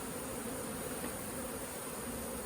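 A low, even drone of many honey bees buzzing around an open hive during a summer inspection, steady and moderately faint throughout with no voices.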